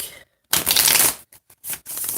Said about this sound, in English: Shuffle up the other deck here real quick